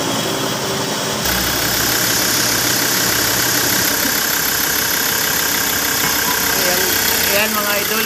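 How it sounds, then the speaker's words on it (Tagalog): A 2020 Ford Everest engine idles steadily nearby during a transmission fluid change, with a constant rumbling drone and mechanical rattle, continuous throughout with a faint background voice. "pinaandar ko na yung makina niya"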